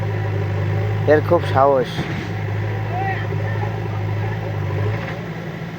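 A JCB excavator's engine runs steadily at a medium pitch, a continuous loud rumble that holds through the clip while someone talks briefly over it.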